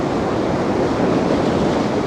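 Sea waves at Blackpool roar in a loud, continuous broadband wash under heavy wind, with no talk over them.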